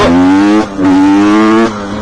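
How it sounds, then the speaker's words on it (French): A loud, close old two-stroke 125 motorcycle engine buzzing at a high pitch, rising in two revving surges with a brief dip between them. "On va se laisser sur le doux son de cette vieille moto."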